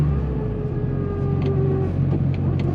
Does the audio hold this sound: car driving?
yes